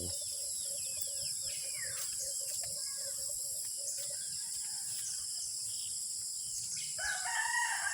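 A rooster crows repeatedly at a moderate distance, several drawn-out calls over a constant chorus of crickets and insects.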